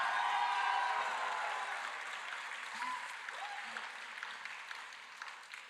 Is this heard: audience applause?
yes